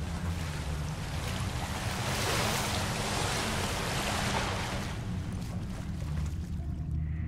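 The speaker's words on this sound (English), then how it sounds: "Why is the water getting so loud?" Loud, steady rush of ocean waves and surf in The Last of Us, a broad continuous roar with wind noise that swells slightly midway and holds for several seconds with no one talking.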